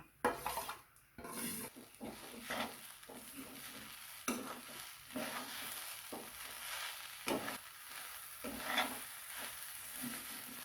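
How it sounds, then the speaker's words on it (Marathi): Roasted coconut, onion, tomato and masala stirred together in a pan, a spoon scraping and clinking against the metal amid a soft sizzle, close and steady with no talking. "त्यात आपण भाजलेला कांदा, टोमॅटो, भाजलेला मसाला एकत्र करून घेऊया"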